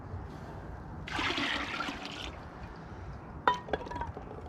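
Cold hose water swishes and sloshes briefly in a tub for an off-grid shower, followed by a few light clinks and knocks nearby.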